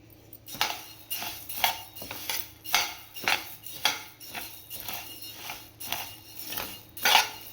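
Dry coriander seeds are stirred in a pan with a metal spoon: rhythmic scraping and clinking strokes, about one per second, close and steady, with no talking.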